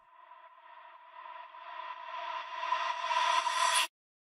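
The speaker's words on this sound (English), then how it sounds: "we can add these impact reverse sweeps" A noisy whooshing reverse sweep transition effect rises steadily in pitch and loudness for about four seconds, then cuts off abruptly into silence.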